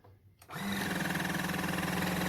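After a brief quiet moment, the small electric motor of an Oral-B water flosser starts up and buzzes steadily with a rapid pulsing whir, close and fairly loud.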